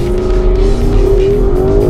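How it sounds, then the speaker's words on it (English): A Porsche Cayenne S with a big V8 revs loudly and steadily close by, its engine pitch climbing smoothly across two seconds with a deep rumble underneath and no talking. "we've got a big brawny V8, of course, so it's like this"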